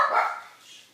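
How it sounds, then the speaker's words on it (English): A single close dog bark, sharp and loud at the start, then trailing off within a second. "Sorry about the dogs."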